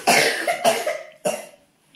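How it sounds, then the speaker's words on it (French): A child coughs three times in short bursts, each sharp cough trailing off, close by with no talking. "On a des enfants qui toussent quand même un peu"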